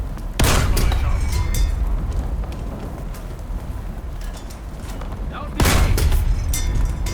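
Two heavy tank cannon shots ring out in War Thunder, one near the start and another a few seconds later, each a loud broadband boom fading into rumbling battlefield ambience with talking over it, fired at a T-34.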